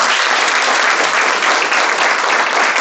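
Audience applause at a Hindi motivational talk during a crash course session, a steady dense wash of many hands clapping, loud and even throughout with no voices.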